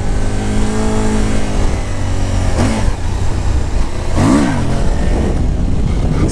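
A Suzuki V-Strom motorcycle engine roars loudly and close, with a sustained rev and two sharp throttle blips as it accelerates. No one speaks.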